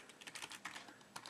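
A username being typed on a computer keyboard while rooting a Palm Pre phone, a quick uneven run of light close key clicks with no talking.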